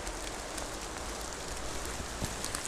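Heavy rain falls outdoors in a rural Thai setting while mushrooms are gathered, a dense, steady hiss of drops spread evenly through the whole stretch with no voices.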